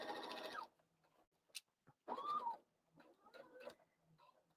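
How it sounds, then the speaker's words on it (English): A sewing machine stitches in one quick, steady burst, then stops, leaving a quiet room with scattered soft clicks and small handling sounds. "And since I'm sewing upside down,"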